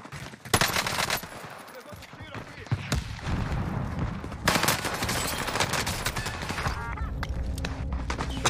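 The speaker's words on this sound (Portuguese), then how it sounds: "Não, um tiro." Rapid bursts of gunfire from a video game sit near a railway track, loud sharp cracks in quick clusters with honking effects between them, while a player talks over the action.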